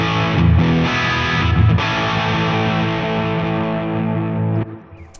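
Electric guitar played through channel 1 of an MKX amp, a distorted chord-driven riff ringing loudly and alone for about five seconds before the final chord is cut off.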